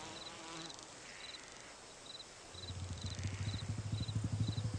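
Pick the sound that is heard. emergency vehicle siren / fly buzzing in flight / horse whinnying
fly buzzing in flight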